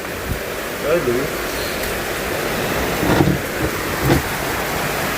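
Rainwater gushes hard off a new roof in a constant broad rushing wash, with faint voices briefly surfacing beneath it.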